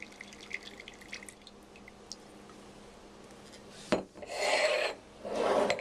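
A Coravin wine preserver gives soft scraping, clicking handling sounds, then a sharp pump burst followed by two longer hissing pulses as wine is drawn from a Burgundy bottle.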